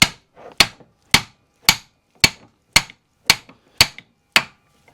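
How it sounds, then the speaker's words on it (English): Eight evenly spaced metallic blows of a brass hammer on a closed-knuckle axle shaft ring out, each a sharp close strike with a short ringing decay, in a steady rhythm. "I'm using a brass hammer, so don't worry, it's not going to hurt this shaft."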